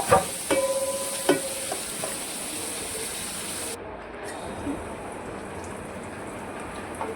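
Bombil fish curry simmering in a pan on a gas stove gives a steady, bubbling sizzle throughout, with a few sharp clicks near the start and a quieter, even hiss in the second half.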